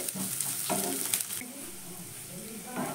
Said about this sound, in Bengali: এবার এইগুলোকে আমি প্রথমে একটু ভেজে নেব। এগুলো খুব বেশি ভাজার প্রয়োজন নেই, আদা রসুনের কাঁচা গন্ধটা হালকা একটু চলে গেলেই হয়ে যাবে।